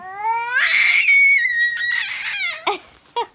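A young child lets out a loud, close, high-pitched scream that wavers and falls into sobbing wails, ending in a few short sharp bursts.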